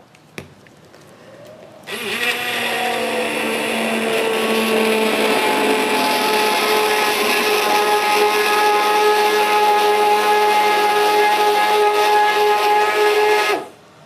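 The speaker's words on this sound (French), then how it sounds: "on a pris là le petit mixeur plongeant" A small immersion blender blending rhubarb in a bowl starts abruptly after a brief click, then runs as a loud, steady high-pitched whine with a constant motor hum for about twelve seconds before stopping sharply.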